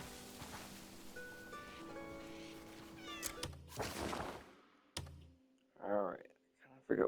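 A cat meows a few times in the video game Crimson Desert, short and fairly close, after a stretch of game music and clicking sounds.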